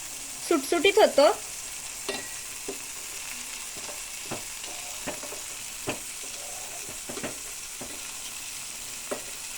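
Oil crackles and sizzles in a pan as a tempering for pasta is made, opening with a burst of loud spattering as ingredients hit the heat, then scattered pops and stirring scrapes.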